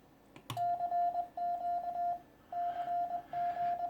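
Ham radio CQ call on the 10 meter band, sent as Morse-like beeps: a steady tone keyed in several long bursts over faint static, following a sharp click.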